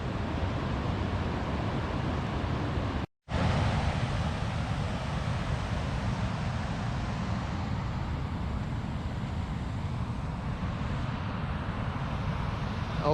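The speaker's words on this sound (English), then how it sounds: "The noise of that waterfall is mental" A constant, heavy roar of falling water from a waterfall at Backwater Dam in Scotland fills the air, loud and unbroken, with a brief dropout near the start.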